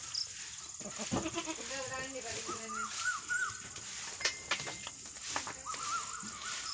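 Several farm goats at a feeding trough bleat in a wavering, repeated pattern nearby, overlapping one another against a steady outdoor background hum.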